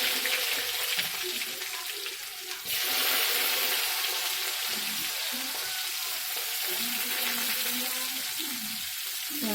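Green chilli and onion fry in a pan for a red-rice kichadi, giving a steady hissing sizzle. A brief clatter comes near the start, then the frying noise settles into an even, fairly loud hiss.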